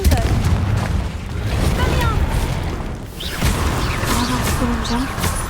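Repulsor and Confringo spells firing in Hogwarts Legacy combat: loud booming blasts and rapid bursts over a dense, rumbling game soundscape, with a short lull midway before another sharp explosive impact.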